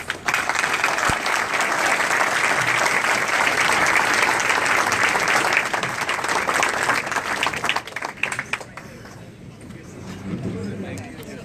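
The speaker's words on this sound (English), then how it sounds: "please join me in a final round of applause for our candidates" Audience applause fills a debate forum hall for gubernatorial candidates at the Carlson Center in Fairbanks, a broad, dense clapping that swells for several seconds, then thins and fades toward the end as a voice returns.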